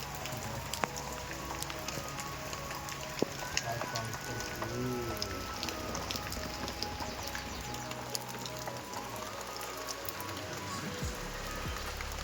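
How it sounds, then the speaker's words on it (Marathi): Continuous rain pattering on a surface at moderate level, with scattered drops, faint background hum and a few distant bird calls. "असा पाऊस सुरू आहे आमच्याकडे"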